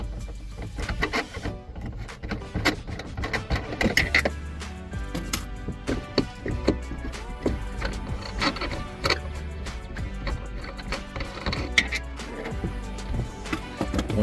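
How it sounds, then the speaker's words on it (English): Screws come out of a Jeep Wrangler T-top: a run of close metallic clicks, squeaks and small clinks from a hand tool, irregular and fairly busy, with low rumbly handling noise underneath. "Take these screws off."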